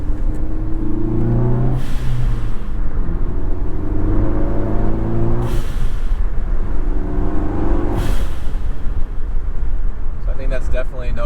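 Ford Focus ST with a Turbosmart blow-off valve, windows down: a loud engine drone with three brief hissing whooshes of the valve venting between gear changes, some road rumble throughout.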